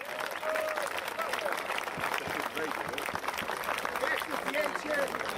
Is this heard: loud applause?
yes